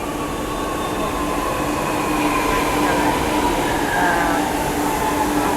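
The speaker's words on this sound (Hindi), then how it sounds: "बस अभी अपनी मेट्रो आ गई है, ये रही।" A Chennai Metro Blue Line train arrives at the platform with a loud, steady rumble and a rising whine, faint wheel squeal threading through, while people talk nearby.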